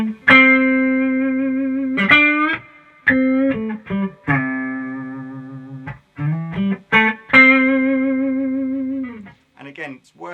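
An electric guitar with effects plays blues phrases, each note held steady for a moment before sliding into a wide vibrato, with several sustained bends and short gaps between phrases, loud and alone.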